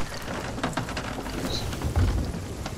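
A thunderstorm in the video game Sea of Thieves: steady rainfall patters throughout, with a deep rumble of thunder swelling near the end.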